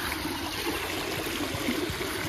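Water flows steadily across a farm in the Konkan region, a continuous gentle rushing trickle heard nearby without voices.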